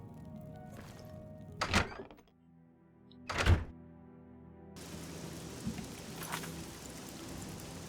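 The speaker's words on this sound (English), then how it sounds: "Very rainy day." Rain falling in the video game Oblivion, a steady wash of drops with two louder thunk-like hits and a brighter, denser patch of rainfall toward the end, with no talking.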